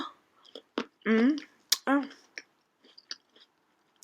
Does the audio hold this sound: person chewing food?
yes